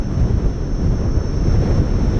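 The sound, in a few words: wind blowing into microphone while riding electric unicycle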